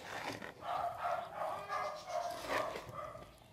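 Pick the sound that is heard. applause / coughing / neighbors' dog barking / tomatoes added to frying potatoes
neighbors' dog barking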